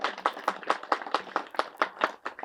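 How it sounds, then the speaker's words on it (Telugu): A group at a pyramid meditation temple groundbreaking ceremony claps in unison in honour of a guru, about a dozen strong, evenly paced rhythmic claps, close and clear, with no talk. "బ్రహ్మర్షి పితామహ పత్రిజీ గారికి ఒకసారి గట్టిగా చప్పట్లు కొడదాం"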